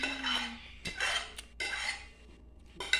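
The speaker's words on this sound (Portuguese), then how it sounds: "Vamos estar tá aqui colocando o molho, ó, bem grosso nosso macarrão" Close, intermittent scraping and clinking of a utensil against a pot as thick tomato sauce is stirred into macaroni for a Sunday lunch, with short pauses between strokes.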